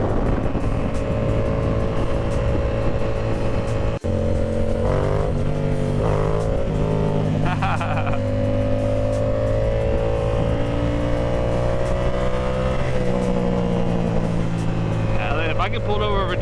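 A motorcycle engine roars loudly during a ride, rising and falling in pitch through several gear changes and revs, with wind noise and a rider's voice over it.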